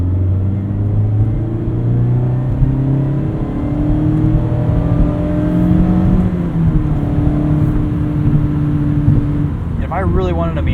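A Mazda MX-5 Miata revs up through a steady third-gear pull, its engine drone climbing in pitch over about ten seconds, heard close from inside the soft-top cabin with constant road rumble.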